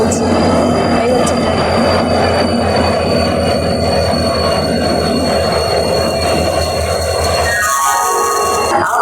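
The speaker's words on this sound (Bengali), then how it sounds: "এই হচ্ছে ট্রেন ঢুকছে আমাদের" A passenger train pulls into a station in Ranchi with a loud, steady rumble of wheels and carriages, then high metallic brake squeals near the end, with platform voices mixed in.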